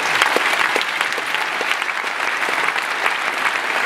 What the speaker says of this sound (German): Ihr Applaus für unseren zweiten Starter, Mike Marcinkowski, meine Damen und Herren